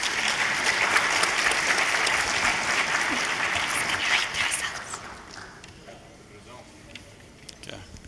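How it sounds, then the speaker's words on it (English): An audience at a debate on life insurance products claps for the debaters, loud dense applause for about five seconds that then thins and fades to scattered claps and low room noise. "Please give the debaters a round of applause."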